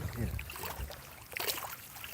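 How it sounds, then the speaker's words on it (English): Gentle Gulf of Florida water laps onto the shore at Saint Germain, soft swishing washes rising and falling close by at low volume. "lapping onto the shore. It's that peaceful kind of flowy sound."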